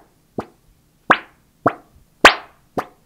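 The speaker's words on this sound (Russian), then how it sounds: "Надо взять достаточно большую металлическую или пластиковую пластину и вот так зажать ее чуть-чуть в своих руках и начать выворачивать с одной стороны на другую" A large metal or plastic plate is flexed from side to side by hand, producing five separate hollow wobbling plops at uneven intervals, close and fairly loud against silence.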